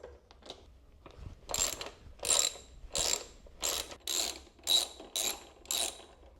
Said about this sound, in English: So I've got my 8mm socket here. I put an extension on just because it's hard to get in there. So let's go ahead and loosen these and take these off.